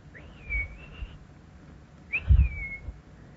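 A person whistles an imitation of a wood pewee's call: two clear, slurred whistled phrases with a pause between them, close and fairly loud, with no talking.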